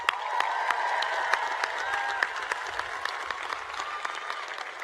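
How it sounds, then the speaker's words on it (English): A large commencement audience applauds, with dense, sustained clapping that fills the space evenly from start to finish, plus a few brighter individual claps standing out. "Let's give them a round of applause."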